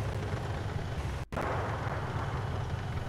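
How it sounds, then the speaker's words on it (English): A Bradley armored vehicle blowing up in the military game Arma: a loud, dense, continuous roar of blast noise, close and heavy, broken by one abrupt momentary dropout partway through. "Our Bradley that has respawned is constantly blowing up as well."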